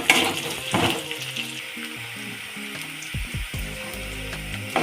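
Dried red chillies and curry leaves sauté in hot oil for a banana stem stir-fry, giving a steady close sizzle with a few louder crackling bursts and no voices.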